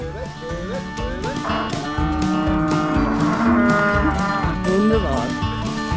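Cattle on a Swiss farm moo loudly and repeatedly, several long overlapping bellowing calls close by, with shorter rising calls mixed in and a low rumble underneath throughout.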